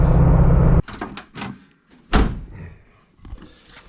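A car door fitted with a new latch on a Pro Touring Camaro swings shut with one loud, close slam, followed by a few softer thumps and rattles as the latch settles.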